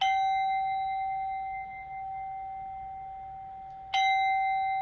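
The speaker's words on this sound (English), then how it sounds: "I know this is tiny and this is my first sound bowl" A tiny sound bowl rings with a clear, pure sustained tone and bright overtones that slowly decay, then is struck again near the end for a fresh sharp ring, alone without speech.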